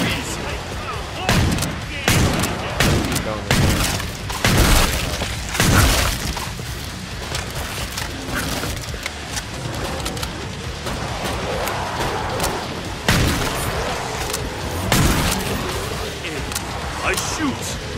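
Gunfire in the video game Killing Floor: a dense, chaotic run of sharp shots and bursts, some close and loud, layered over constant in-game noise and clatter.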